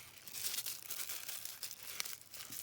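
Coffee filter paper squished and crinkled by hand onto a junk journal makes soft, irregular crackling and rustling bursts, close but quiet, with no talk.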